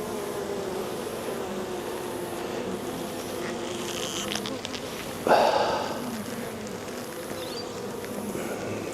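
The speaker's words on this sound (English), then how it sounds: "It'd be great to see a bee coming out, to be honest." Honeybees buzzing around an open hive during a brood inspection, a steady close droning hum with faint rustling and one brief louder knock midway, no speech.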